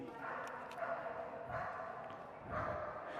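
A Belgian Malinois at an outdoor dock jumping event gives a few barks and yips amid a noisy crowd, with a public-address voice talking over the scene.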